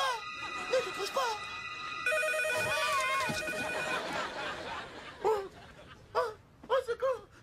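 A telephone rings in a haunted house with a steady electronic tone held for about four seconds. Short bursts of voices follow.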